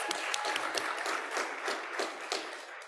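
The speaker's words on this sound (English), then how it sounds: "yes, round of applause" A round of applause from a conference audience at an academic panel on postsecondary credentials, steady dense clapping at moderate volume lasting the whole stretch.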